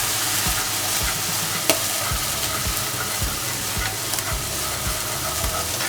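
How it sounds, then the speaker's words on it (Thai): Chinese sausage with salad dressing sizzles steadily in a hot pan, a constant loud frying hiss broken by regular scraping stir strokes. "จากนั้นเราก็ผัดให้ น้ำยำตรงนี้นะครับ เข้าไปในเนื้อของกุนเชียงของเราได้เลยนะครับ"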